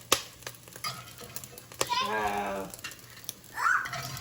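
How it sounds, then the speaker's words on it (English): Peas popping and sizzling as they fry in a pan, sharp crackles and spits over a frying hiss, with a person talking over part of it. "I think the peas are making it pop."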